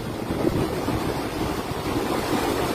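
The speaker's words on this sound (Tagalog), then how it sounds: "Grabing tubig ng dam na yan." Floodwater from the overflowing Bustos Dam in Bulacan, its rubber gate broken, roars in a loud, steady, unbroken rush that fills the whole stretch, mixed with wind buffeting the microphone.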